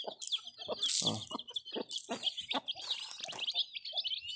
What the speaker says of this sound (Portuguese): agora é a hora de tratar dos pintinhos. Aqui a Pretona com seus 9 pintinhos.